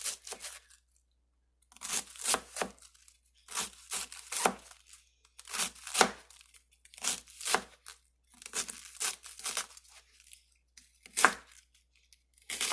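A knife slices cabbage thinly for gyoza in short bursts of crisp crunching and tearing strokes on a board, separated by brief pauses.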